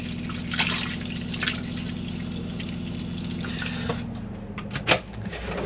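Water runs steadily into the wash basin of a Chausson First Line 650 motorhome, with a pump humming underneath and a few louder splashes and drips near the end.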